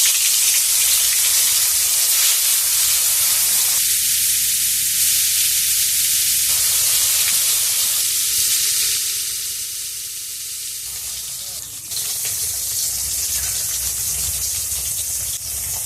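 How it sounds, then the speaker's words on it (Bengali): Snakehead fish fry in hot oil with a little salt for a village-style curry, a loud, continuous crackling sizzle that eases slightly midway, with two stretches of steady electronic hum over it. "ওর মধ্যে মাছগুলো দিয়ে আমি ভেজে নিচ্ছি।"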